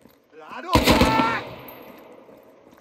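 A single loud, close burst of gunfire rings out at a firing range in the video game Squad, a sharp crack followed by a short rattling volley and a fading echo.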